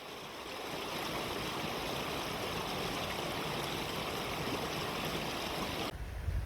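A river on Dartmoor near Brat Tor flows steadily through open moorland, a continuous close rushing babble of water over rocks that holds evenly throughout and drops away abruptly near the end.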